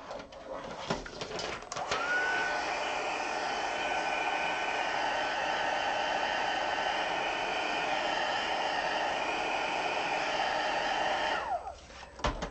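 A heat tool blows steadily for about ten seconds to dry ink on stamped paper cards, with a loud, even whooshing hum from start to finish and brief clicks where it switches on and off.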